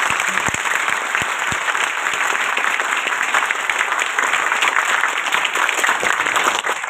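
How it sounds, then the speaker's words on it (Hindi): A large audience at a live Hindi business seminar claps loudly and steadily for themselves, a dense, sustained wash of many hands throughout with no voices on top. "एक बार जोरदार ताली अपने लिए।"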